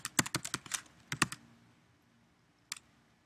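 Rapid keystrokes on a computer keyboard as an email address is entered at a login page, a quick burst of close clicks that slows and stops, then one last isolated tap after a pause.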